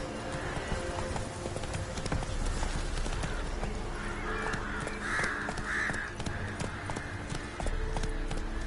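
A horse galloping in The Witcher 3: Wild Hunt, steady rapid hoofbeats running continuously and loud over a busy game soundscape, with a brief whinny-like call in the middle.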